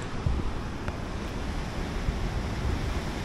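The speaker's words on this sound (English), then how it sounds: "And you want to see the wind? The wind is doing this." Strong wind roars across a microphone on the Tenerife coast, mixed with the steady wash of ocean surf, a loud, dense, continuous rush with no voices.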